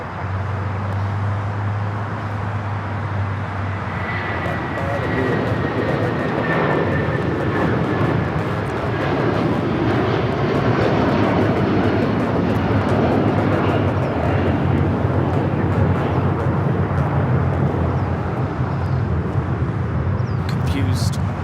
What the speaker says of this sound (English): Next takeoff, United 757-300 off to Chicago.